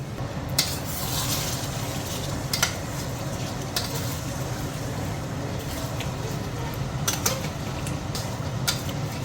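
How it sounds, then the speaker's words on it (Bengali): Mutton frying slowly over low gas in a covered kadai, a continuous low sizzle and bubbling with a few sharp clinks and creaks scattered throughout. "পুরো মাটনটাই কড়াইতে কষিয়ে হবে প্রেশার কুকারে যাবে না এবার আস্তে আস্তে কষবে"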